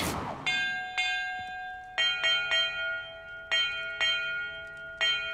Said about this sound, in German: in welcher Reihenfolge ich die Glocken läuten muss